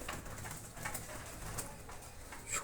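Several pigeons coo softly in a loft, low murmuring calls repeating over a steady background hiss.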